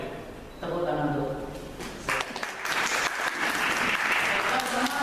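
Classroom students clap together at a micro-teaching session, a dense burst of applause that begins after a spoken voice and fills the room, with talk continuing over it.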